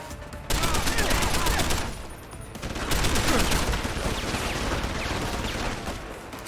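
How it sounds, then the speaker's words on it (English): Gunfire fills a Deus Ex: Human Revolution firefight, with dense, sustained bursts of automatic shooting that dip briefly near the two-second mark and then roll on loud and continuous. "Oh, that is a lot of shooting."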